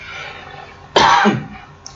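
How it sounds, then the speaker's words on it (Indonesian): A single sharp cough bursts out close by, brief and loud, against a quiet room background. "Mohon maaf agak batuk."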